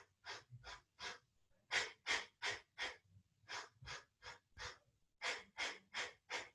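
Steady rhythmic yoga breathing, close and soft, with about twenty even breaths in a regular inhale-exhale pattern and no talking.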